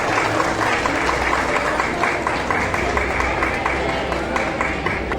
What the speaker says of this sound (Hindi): तालियां बजाते रहिए।